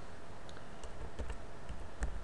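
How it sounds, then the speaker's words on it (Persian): Someone types a command into a GIS program's command line on a computer keyboard, producing a few quiet, scattered key clicks and taps, close up and alone. "در این قسمت این دستور رو من تایپ میکنم"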